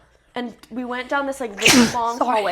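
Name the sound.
sneeze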